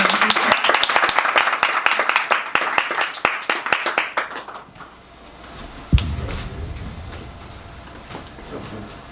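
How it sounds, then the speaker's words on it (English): An audience claps for a speaker at a talk, a dense burst of applause that thins and fades out after about five seconds, followed by a quiet room with a thump and brief talk. "So let's give him a round of applause."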